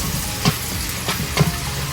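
Eggplant fries in a hot pan with a steady, dense sizzle, broken by a few soft stirring knocks, close and continuous with no talking.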